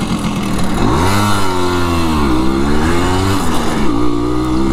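Simson S51 moped ridden with two people aboard, its small two-stroke engine droning loudly and steadily with rising and falling revs through gear changes, close and continuous throughout.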